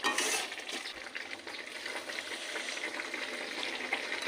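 Mango pieces dropped into melted, sticky caramelized sugar in a pan, giving a steady sizzle and frying hiss with a louder burst at the start and stirring scrapes throughout.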